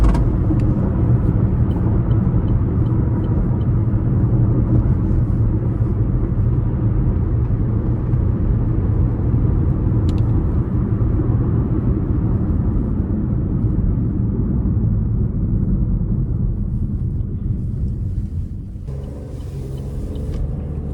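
A 2026 Chevy Trax 1LS with a 1.2-liter turbocharged three-cylinder engine drives along, heard from inside the cabin as a continuous low rumble of engine and road noise that stays steady and eases slightly near the end.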